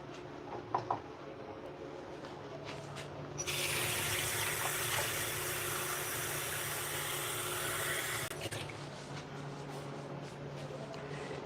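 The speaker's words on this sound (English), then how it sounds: "So what I will do is use just a small amount of water." Water pouring from a tap onto cornmeal in a kitchen, a steady broadband rush lasting several seconds over a low background hum of a flame or stove, starting and stopping abruptly, with no speech.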